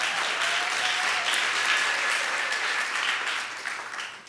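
A large audience applauds at a literary hall of fame award ceremony in Chicago, a dense, steady wash of many hands clapping that holds throughout and tapers slightly at the end, with no talk over it.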